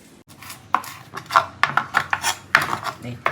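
Curry leaves being chopped with a knife on a board, a series of sharp, close, uneven thuds and taps in quick succession.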